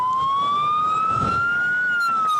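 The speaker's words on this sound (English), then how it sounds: "The soundtrack of Australia's summer. Crackling flames, sirens," Emergency vehicle siren during Australian bushfires, a loud close single wailing tone rising slowly and holding, with faint rumble underneath.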